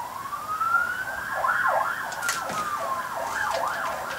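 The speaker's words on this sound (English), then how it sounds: "There's two sirens." Two emergency vehicle sirens passing outdoors, one long rising wail overlapping a faster repeating wail, fairly distant and sustained throughout, with no voices.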